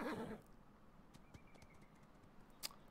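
Horses in a video game, swimming out into the ocean. Faint hoof-like clops and a soft whinny sound sparsely at a distance over a quiet background.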